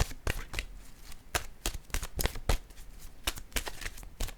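Cards are shuffled before a new one is drawn: repeated crisp riffling bursts and sharp snaps in an irregular rhythm, close by and fairly quiet, with no talking.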